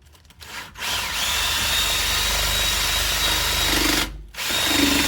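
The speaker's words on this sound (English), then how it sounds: "just got a little wire brush here and try and clean that hole out" A small wire brush, apparently power-driven, cleans out the wheel speed sensor hole on a BMW E46 during a brake overhaul. It gives a steady, loud whirring scrape with a high whine, then cuts out briefly near the end before resuming.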